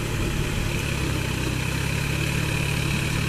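A New Holland 4710 Excel 47 hp 4WD tractor works a muddy field in low gear, its diesel engine giving a steady, loud, even drone with a continuous low throb throughout.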